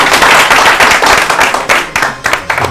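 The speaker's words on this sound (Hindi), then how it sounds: "ताली।" Audience applause for a prize winner at an Urdu literary quiz show, a dense burst of many hands clapping that fades and swells in uneven waves over a few seconds.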